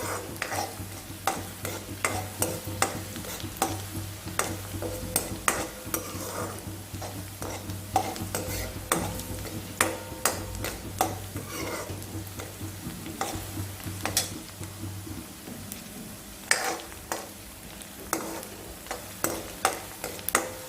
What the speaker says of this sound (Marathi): कांद्याला छानसा कलर बदलूपर्यंत आपण याला परतून घेणार आहोत.